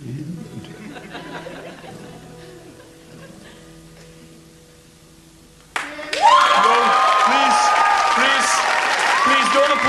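An audience suddenly bursts into loud, sustained applause mixed with chuckles and laughter, breaking in after quieter stage talk and continuing to the end.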